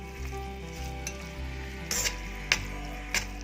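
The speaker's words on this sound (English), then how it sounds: "It's time to add the egg yolk. And then give a good mix." Spaghetti carbonara being mixed with raw egg yolk in a pan, soft sizzling and stirring with a few sharp clinks of utensil against pan, close and fairly quiet, no talking.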